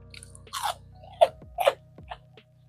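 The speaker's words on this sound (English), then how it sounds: "This is fried chicken, Korean style. You guys hear that crunch?" Crunchy Korean-style air-fried chicken with a potato starch coating is bitten and chewed up close, several sharp crisp crunches in uneven succession over a low steady hum, with no talking.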